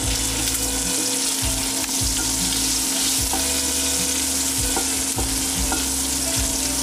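Shrimp fry in a hot pan with a steady, dense sizzle and crackle, broken by occasional soft clicks and scrapes from stirring. It is close and continuous, with no talk.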